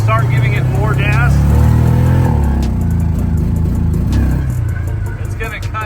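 Hisun Sector 450 UTV engine under throttle, loud and close, rising then faltering as it cuts out, with a voice talking over the engine.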